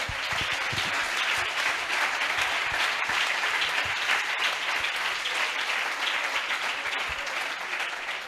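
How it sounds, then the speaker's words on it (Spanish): An audience at a Sevilla football fan colloquium breaks into sustained, dense applause, steady and loud throughout without pauses. "Aplauso."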